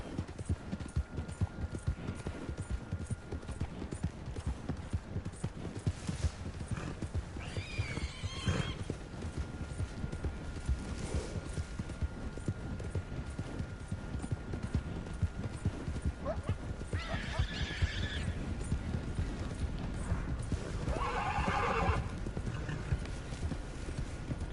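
A horse in the video game Red Dead Redemption 2 clip-clops steadily along under a constant background of game ambience, with a few brief whinnies rising over the rhythmic hoofbeats.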